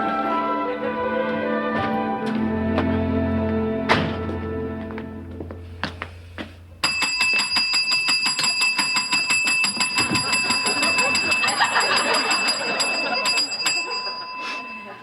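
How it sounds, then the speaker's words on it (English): A bell rung indoors, giving a bright repeated ringing that starts partway through and continues steadily to the end, preceded by sustained tones and a few sharp knocks, with voices in the scene. "You have been told never to ring that bell."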